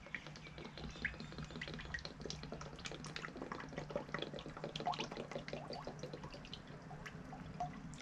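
Motor oil pouring into the reservoir of a Cowboy CB6900 industrial sewing machine, a faint continuous trickle with fine close dripping patters throughout.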